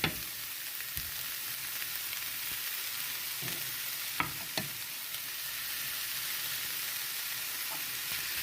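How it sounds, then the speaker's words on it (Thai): Minced beef stir-frying in a hot pan gives a steady close sizzle, broken by a few sharp scrapes and taps of a spatula against the pan; no one speaks. "เราจะผัดเนื้อบดให้เขาใกล้ๆสุกนิดนึงนะคะ"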